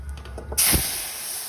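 Lentil dal made with flat bean seeds is poured into a hot pan holding a bay leaf. It hits with a sudden, loud, sustained sizzle that hisses on steadily, close up.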